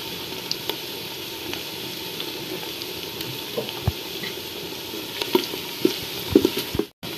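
Onions fry with whole garam masala in a pan, making a low, even sizzle with scattered clicks and stirring taps that grow busier near the end. No one speaks.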